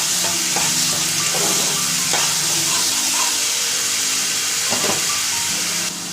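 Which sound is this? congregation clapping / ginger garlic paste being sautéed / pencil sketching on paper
ginger garlic paste being sautéed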